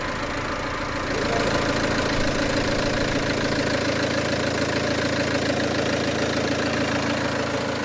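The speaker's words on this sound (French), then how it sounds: "J'ai mis de la 540, donc là ça tourne mieux. On entend bien nos bruits moteurs." A Peugeot 307 2.0 HDI diesel with a misfire fault idles steadily close by, its low, even knocking rumble continuing unbroken with no voices.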